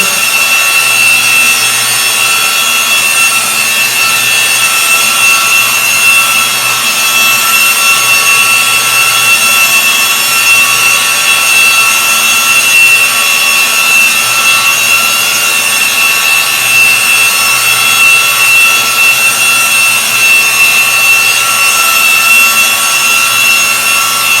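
A rotary car polishing buffer spinning at 1,500 RPM gives a continuous loud, steady mechanical whine with a high-pitched tonal hum, unchanging from start to finish with no pauses.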